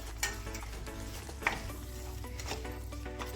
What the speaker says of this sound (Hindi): गुड़ को इस तरह से चलाते हुए मेल्ट कर लेंगे